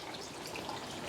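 Heavy rain keeps up a steady, hissing wash with water running into a garage, a faint, continuous trickle lasting about a second.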